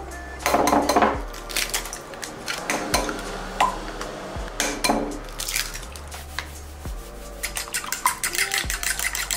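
Kitchen clatter of dishes, pots, pans and cutlery clinking and scraping continuously up close, with stirring and occasional liquid sounds, and no talking.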